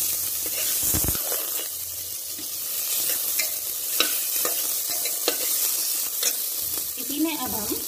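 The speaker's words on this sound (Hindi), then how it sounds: "अब हम इसमें ये अपने पोटैटो डाल देंगे। इसको अच्छे से मिक्स कर देंगे।" Potatoes sizzle steadily in a hot pan while a utensil stirs and scrapes through them, close and fairly loud.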